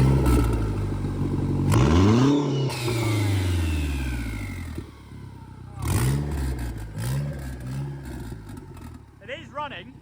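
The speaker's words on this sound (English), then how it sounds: "4 cylinders sound absolutely incredible," A Mercedes SLK turbo four-cylinder engine revs up and down several times close by, rising and falling whines with clattering, while people talk over and between the revs.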